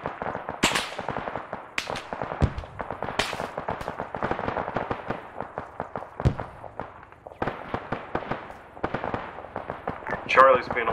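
Gunfire from British weapons in the military video game Arma: a dense, near-continuous crackle of sharp shots and bursts over about eleven seconds, close and loud, with occasional heavier reports standing out.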